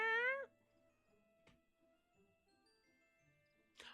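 A video game cat gives one clear, close meow, then faint ticks and small chimes follow, and a short second cry comes near the end.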